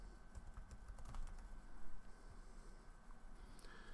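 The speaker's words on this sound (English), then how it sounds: "If I can type." Computer keys tapped at a steady, close pace, soft rattling clicks running throughout without any talk.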